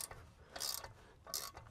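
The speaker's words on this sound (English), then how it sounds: "So use our ratchet." A hand ratchet clicks in two short bursts, close and fairly quiet, as it turns on a semi truck's spring brake chamber, with a brief pause of faint rubbing between the strokes.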